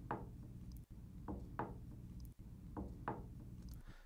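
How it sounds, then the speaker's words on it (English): Four knocks on a wooden table sound at a slow, uneven pace, each a dull thud with a brief ringing decay, faint beneath a low background hum in a podcast recording. "So I'm actually just going to go where there's no knocking on the table."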